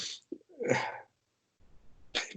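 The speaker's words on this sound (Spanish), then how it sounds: "Perdón porque estoy por estornudar" A single sharp sneeze bursts out close to the microphone during a quiet classroom lecture, preceded by a short catch of breath, with another brief noisy burst near the end.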